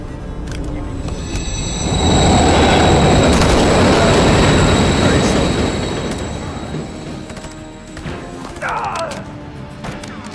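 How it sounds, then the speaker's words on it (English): A train rumbles past in the Call of Duty: Modern Warfare III video game. The loud, broad roar swells to a peak within a few seconds, then eases off, with a brief metallic squeal near the end. "Another train coming."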